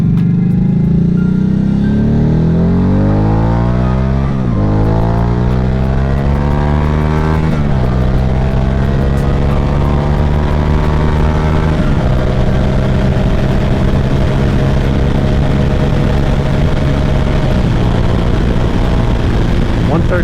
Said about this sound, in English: it's a really fun motorcycle to ride